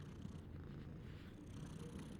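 A cat purring indoors, a steady low rumble that continues unbroken and close throughout, with no voices.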